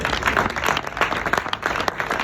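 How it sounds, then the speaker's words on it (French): Comedy club audience applauding, a short burst of scattered, uneven clapping from a modest crowd, with individual claps audible within the patter. "applaudissez les belles personnes dans la salle"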